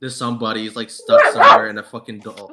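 A pet dog barks and yips loudly in a burst near the middle, cutting across casual conversation that continues before and after.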